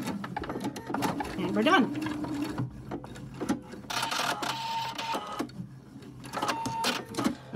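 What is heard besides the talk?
sewing machine stitching elastic onto a fabric mask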